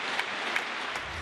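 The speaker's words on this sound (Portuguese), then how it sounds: "Aplausos surdos ajudam a preencher a sala." Soft, muffled applause from an audience of hearing-impaired children filling a concert hall, a steady diffuse patter at moderate distance with no voices.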